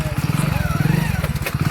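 A motorcycle engine chugs steadily nearby with a rhythmic low putter, while people talk over it.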